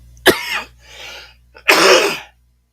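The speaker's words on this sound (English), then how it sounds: "I got a tickle in my throat, so I'm coughing, trying to get it out" Two sharp, loud coughs a second apart, the second longer and rougher, with a brief throat sound between them.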